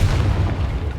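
A deep, rumbling blast from the Confringo fire spell in Hogwarts Legacy, one heavy sustained boom filling the moment, loud and close with no talk.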